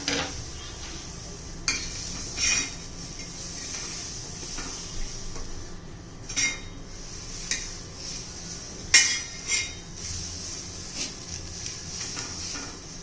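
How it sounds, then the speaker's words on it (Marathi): A hot iron tawa in a home kitchen hisses steadily and loudly as cluster beans cook, broken by clinks and scrapes of utensils against the metal. "याच्यावर ही गवार घालून घ्यायची आपल्याला."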